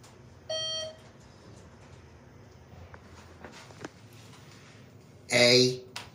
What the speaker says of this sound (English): It has a grocery beep.